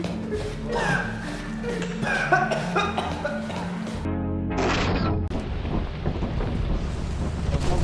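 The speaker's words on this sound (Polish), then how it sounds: "a chyba znowu pada" Steady rain with rolling thunder in the video game Lethal Company fills the scene, a dense roar that shifts midway into a brighter, hissing downpour, with faint voices underneath.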